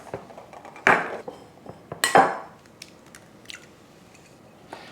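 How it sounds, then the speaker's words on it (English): Three large eggs beaten in a separate bowl: a few sharp clinks of utensil against the bowl, two prominent strikes followed by softer wet squishing taps, close and clear with no talking. "in a separate bowl, we need to beat 3 large eggs"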